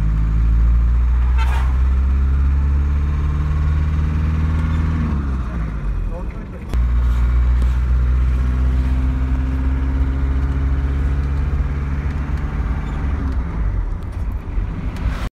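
A 1998 Hindustan Contessa Classic's 2.0 engine drones loudly and continuously while driving, the pitch dipping briefly as it shifts, with a short horn toot early on.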